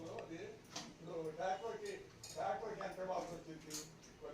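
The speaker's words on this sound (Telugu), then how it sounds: "దొండకాయలు కొయ్యాలన్నమాట." A knife cuts ivy gourds in a home kitchen, with light clicking chops against a board heard under continuous talking in Telugu.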